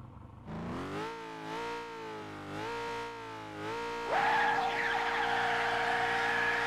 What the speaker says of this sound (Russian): Я просто нажимаю газ в пол и пытаюсь удержать машину от заноса.